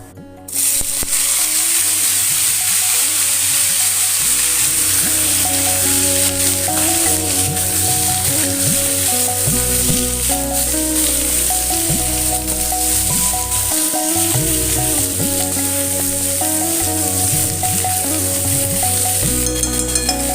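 Aloo posto, potatoes with poppy seeds, sizzles and fries steadily in a pan for a long stretch, a loud continuous crackle with occasional stirring and a low background hum.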